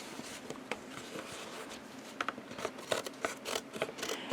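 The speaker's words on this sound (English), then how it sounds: "So now I'm going to cut off that excess tape." Scissors snipping away excess tape while a simple mini-book is being made: a run of quick, close, crisp cuts in uneven bursts, clear and fairly quiet, with no talk over them.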